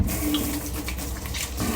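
Running water at a kitchen sink while washing up, a steady close splashing wash lasting under two seconds with no talk over it.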